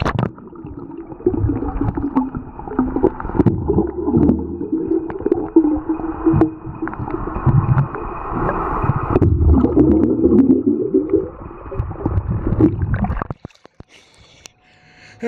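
Muffled underwater noise in a swimming pool picked up by a Nikon AW-110 camera: low gurgling, bubbling and sloshing rumble for most of the stretch, then a sudden drop to near quiet as it ends.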